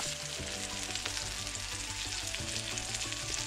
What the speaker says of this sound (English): Sizzling, yes, it's sizzling. I love the way it's getting sizzled.